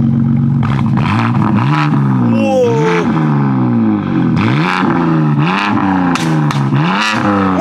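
Loud revving from a 912-horsepower BMW M3 engine, with repeated rising and falling sweeps and throttle blips across several seconds, and a voice briefly exclaiming over it.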